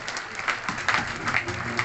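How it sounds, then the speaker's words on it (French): Scattered applause from spectators at an outdoor bird of prey show honouring a bald eagle, light and uneven clapping with a few sharper claps standing out, fairly distant. "Alors lui, vous pouvez l'applaudir quand même là."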